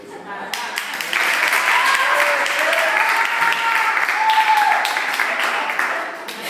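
An audience at a magic show breaks into dense, sustained applause that builds quickly and holds for several seconds before thinning out, with whoops and voices mixed in among the clapping.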